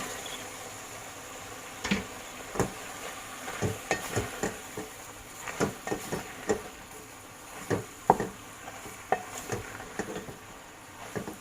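Pasta is stirred into cooked spices in a pan, with a soft continuous sizzle broken by irregular scrapes and clicks of a spoon against the pan, close and unaccompanied by speech.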